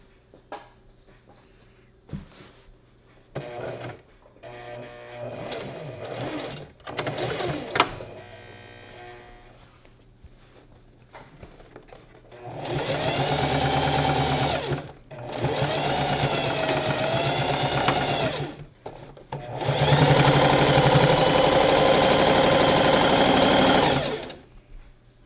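A sewing machine stitches the pockets down on a gathered maxi dress, first in short stuttering taps and clicks, then in three long, loud, steady runs of whirring needle action, close up and without talk.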